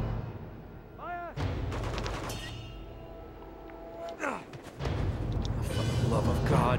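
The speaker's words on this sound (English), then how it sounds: "I heard a rocket too." Rocket explosions and gunfire from the video game Uncharted 2: deep booms and bursts of shots roll through a dense, loud battle mix, with one whooshing pass, and a voice talks over parts of it.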